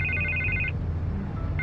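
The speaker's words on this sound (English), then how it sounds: "I can't get the phone to stop ringing." Telephone in the video game Batman: The Telltale Series rings with a trilling electronic bell in two bursts separated by a short pause, over a low background hum.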